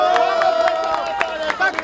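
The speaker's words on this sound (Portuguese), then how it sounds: "Palmas e mais palmas!" A rap battle crowd claps and cheers in a dense, lively burst, with shouting voices and a sharp tone running through the noise.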